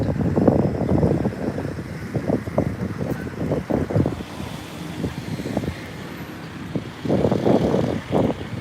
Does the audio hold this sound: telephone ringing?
no